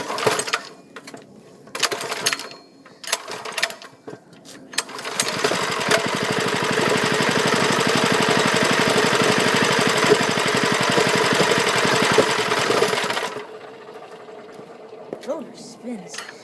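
A Liftan 6.5 hp small engine runs after a cold start, a loud steady rapid chugging that holds for about eight seconds and then cuts off, with short talk and clatter before it.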